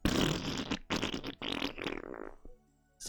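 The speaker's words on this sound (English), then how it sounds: "I'm gonna fart." Comic fart sound effect from the game A Kiss for the Petals, a loud, sputtering burst that rattles on for about two seconds, breaks off briefly, then trails away into quiet.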